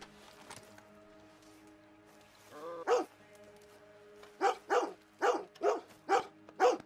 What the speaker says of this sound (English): You're a good dog.